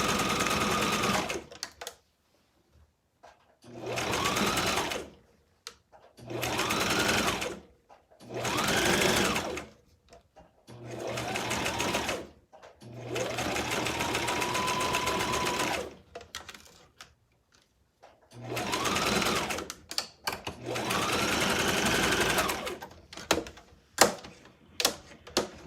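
Sewing machine stitching hair wefts, running in repeated bursts of a few seconds each with short pauses between, close and steady, with faint voices at times.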